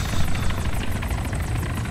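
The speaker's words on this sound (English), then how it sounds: "Helicopter take off." Helicopter lifting off in the ARMA 3 video game, its rotor a steady, loud, close whir with rhythmic blade chop throughout.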